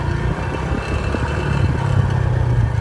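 A car's engine runs steadily from inside the moving vehicle as Sai drives along a roadside, a low continuous hum and rumble with faint road noise and no talk.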